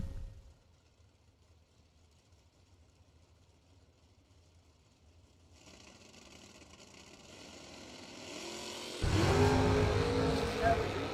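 Drag racing cars, including a 1968 Camaro, build from quiet distant rumbling to a loud close roar as they launch, with an announcer talking over the noise.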